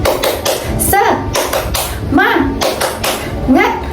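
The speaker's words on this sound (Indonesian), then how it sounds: "Sekarang kita tepuk semangat ya. Tepuk semangat." Schoolchildren in a primary class perform the rhythmic 'tepuk semangat' clap chant, crisp bursts of group clapping alternating with their chanted voices in a lively, repeating pattern.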